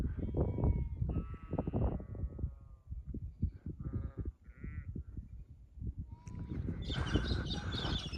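Lambs and sheep bleat repeatedly in a lambing paddock along the Heysen Trail, with several calls near and far overlapping amid outdoor wind noise.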